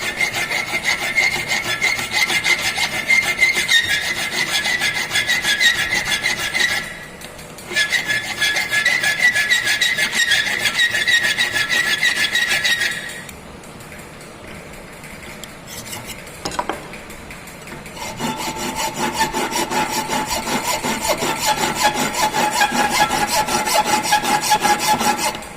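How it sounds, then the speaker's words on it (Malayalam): A triangular file rasps against a wooden dovetail joint in rhythmic back-and-forth strokes, close and fairly loud, with a short pause and then a longer quieter gap before the filing resumes. "ഫയലിംഗ് തുടങ്ങുന്നു. നല്ല ഫയൽ നോക്കിയെടുക്കാം. ട്രയാങ്കിളാണ് കൂടുതൽ അഭികാമ്യം."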